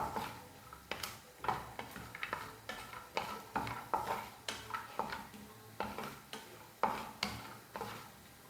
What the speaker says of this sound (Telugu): ఆ నెయ్యిలోకి మనం జీడిపప్పు ఫ్రై చేసుకుందాం.